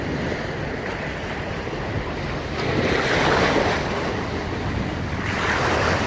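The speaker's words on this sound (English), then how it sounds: "Big wave incoming. I'm going to get wet." Ocean waves surge and break on a beach at Koh Larn, a steady wash of surf swelling louder midway with wind buffeting the microphone, no voices present.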